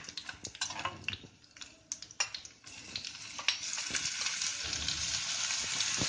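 Bay leaf, dried red chilli, black cardamom, cloves and black peppercorns fry in a pan for a Himachali spinach and curd gravy, with scattered clinks and scrapes of stirring before a steady, louder sizzle builds.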